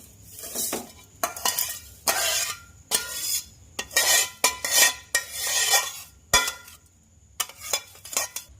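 Fried vermicelli is tipped out of a frying pan for milk semai, giving repeated scraping, clinking metal and scattering rustles in short bursts, close and fairly loud, with no one talking.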